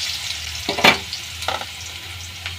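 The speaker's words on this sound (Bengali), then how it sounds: "আলুগুলো ছেড়ে দিলাম" Potatoes dropped into hot oil in a pan for mustard hilsa curry sizzle in short bursts, with a sharp loud spurt near the start, a softer crackle mid-way and a faint one at the end, all close and with no talk.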